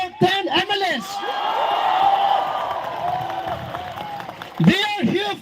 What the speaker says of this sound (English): Once again, a big round of applause for 10 MLAs.